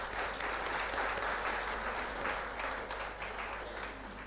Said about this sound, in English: join me in a resounding round of applause for a memorable and successful panel discussion